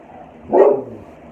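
A single short, sharp bark from a puppy, close and loud, against quiet background.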